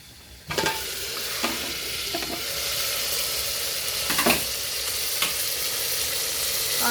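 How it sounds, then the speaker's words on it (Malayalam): Broasted chicken sizzles and bubbles in hot oil inside an opened pressure cooker, a steady close frying hiss with a few sharper crackles and stirring clatters. "ബ്രോസ്റ്റഡൊക്കെ മാഷാഅല്ലാഹ് നന്നായിട്ട് ബ്രോസ്റ്റ് അടിപൊളിയായിട്ട് ഫ്രൈ ആയി വന്നിട്ടുണ്ട്"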